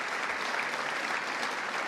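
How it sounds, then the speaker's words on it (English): An audience applauds steadily at a New York job training announcement event, a dense, even wash of clapping that holds at a constant level throughout, with no voices over it. "Let's give him a round of applause as well."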